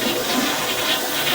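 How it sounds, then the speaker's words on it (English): A toilet flushes with a loud, continuous rush of water draining through the bowl, heard close and alone in a house with a sewer line running 50 feet out. "I'm going to go ahead and flush the toilet here"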